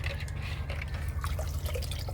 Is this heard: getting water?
yes